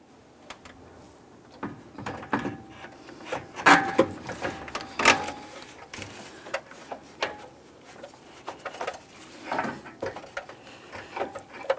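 Radiator for a 1998-2002 Lincoln Navigator being slid down into its rubber mounts, giving a string of close, irregular plastic clicks, knocks and scrapes with short pauses between them.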